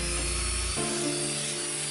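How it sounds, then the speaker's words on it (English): An electric drill fitted with a wire brush scrubs rust from a Honda HRN lawn mower blade, a loud steady grinding whine with a low motor drone that shifts in pitch partway through, close and continuous with no talking. "Here's the drill with the wire brush here."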